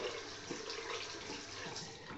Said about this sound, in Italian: Vado a sciacquarmi con acqua fredda